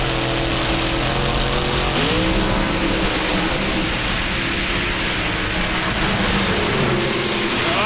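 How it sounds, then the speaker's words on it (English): Drag race cars run side by side down the strip at Atlanta Dragway in the Southern Nationals, a loud, sustained engine roar that rises as they accelerate and fills the whole stretch with no voices. "That was a great drag race side by side."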